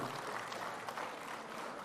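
Audience applause at a Telangana civil services programme event, a dense, steady patter of many hands clapping for a couple of seconds, with no break.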